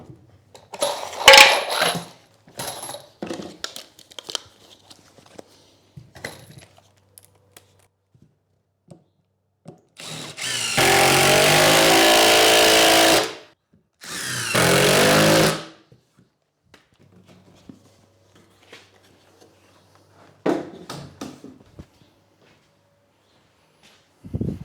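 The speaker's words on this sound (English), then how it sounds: "So screw this guy down, nice and simple, and we'll put on our upright." A power drill drives screws into timber while a mobile timber and plywood storage rack is built: two loud, sustained whirring bursts of a few seconds each, close by, framed by scattered clunks and handling knocks.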